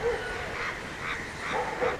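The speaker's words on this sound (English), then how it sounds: "There are a lot of crows up here." Crows caw outdoors in a few harsh, repeated calls at moderate distance over steady background noise, with no talking.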